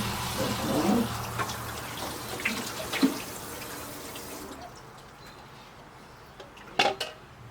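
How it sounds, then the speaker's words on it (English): Water splashes and trickles over a bread machine as it is soaked down in a shop, a steady running wash with a few louder spatters, easing off toward the end. "I'm soaking down a bread machine."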